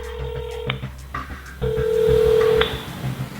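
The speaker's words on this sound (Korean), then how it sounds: "다음 날 제작진의 새로운 번호로 전화를 걸어보았다" A phone call rings out to a used-car dealer, a steady electronic tone pulsing in two long beeps with a short dial blip between them, clear and close with no voices.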